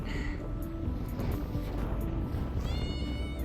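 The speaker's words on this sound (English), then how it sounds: "There's the barn cat." A barn cat meows a couple of times over a busy, noisy farm background with a steady rumble.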